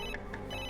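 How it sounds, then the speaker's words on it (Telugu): A telephone ringtone chirps in short electronic bursts, repeating about three times in under a second at moderate volume over a steady background hum, in a crime thriller film scene. "సార్, ఆ అమ్మాయి ఆఫీస్ నుండే ఫోన్ సార్."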